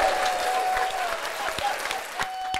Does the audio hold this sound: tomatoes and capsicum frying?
no